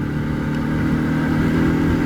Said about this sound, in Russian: 4-й Юпитер, он своеобразный мотоцикл такой. Двигатель его точнее.